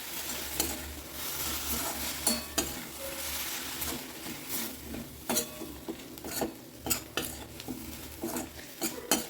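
Coriander stalks sauté in a pan for chutney, with a spoon repeatedly stirring and scraping against the metal over a soft, steady sizzle and no talking.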